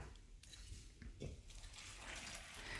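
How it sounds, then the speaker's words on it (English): Water pours steadily into a bowl of flour for bannock dough, with a continuous splashing rush, close by and fairly loud, with no voices. "I'm going to add my water now."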